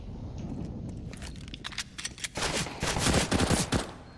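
Rapid automatic rifle fire in a Counter-Strike style match, bursts of sharp shots with an AK and CZ trading bullets, building into denser overlapping gunfire toward the end.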